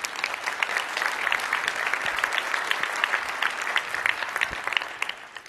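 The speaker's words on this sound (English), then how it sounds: "Please give yourself a round of applause." Audience applause at a conference keynote: a dense, steady wash of many hands clapping at even strength throughout, with no voices standing out.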